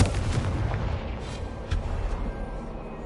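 Confringo blasting-spell explosions go off in Hogwarts Legacy: several deep, rumbling booms and bursts over continuous battle noise, loudest at the start and tapering off gradually.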